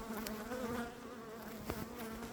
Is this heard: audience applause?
no